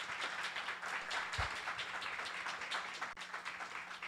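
Faint, distant applause from a church congregation welcoming visiting brethren, a soft steady patter of many hands clapping for a few seconds.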